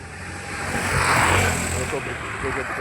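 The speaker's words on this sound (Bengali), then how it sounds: "বাইক চলে গেল" A motorbike engine roars up close as it speeds past on a village road, swelling to a peak and then fading away, over a noisy background.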